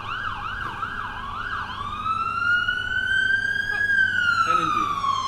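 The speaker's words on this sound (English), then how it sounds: "Ambulance like the one we're hearing now." An ambulance siren wails loudly, first in a fast warbling pattern, then shifting into a long rising and falling tone as it passes close by.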